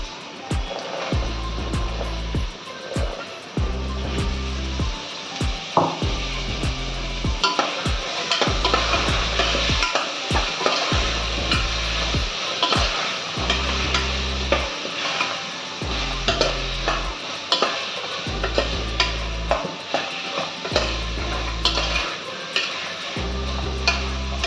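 Peas tossed into a frying pan and stirred for pulav, scraping and clattering in steady repeated strokes over a continuous sizzle, with low thumps of the pan throughout.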